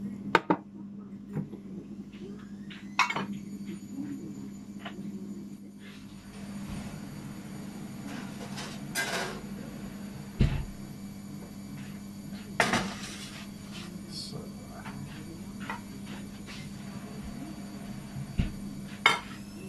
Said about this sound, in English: So what I'm going to do is I'm going to get my trays out the oven now.